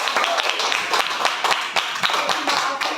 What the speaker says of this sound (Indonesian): tepuk tangan untuk kedua temannya